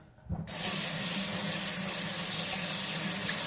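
A kitchen tap turns on after a brief quiet moment and runs steadily, water splashing into the sink while the person waits for it to run hot during ham and bean soup preparation; no talking.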